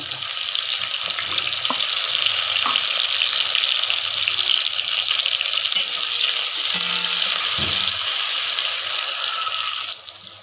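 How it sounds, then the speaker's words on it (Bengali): Onions frying in a pan of oil for a home-cooked egg curry, a steady loud sizzle and hiss running without a break and cutting off sharply near the end, with no talk. "দেখো পেঁয়াজ দিয়েছি, পেঁয়াজের একটু হালকা করে ভাজবো"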